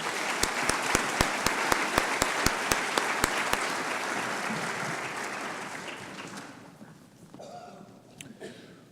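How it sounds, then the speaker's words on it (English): Audience applause at a scholarship reception, a dense, sustained wash of clapping with a few sharp claps standing out, holding steady for several seconds and then tapering off into scattered claps. "How about a round of applause?"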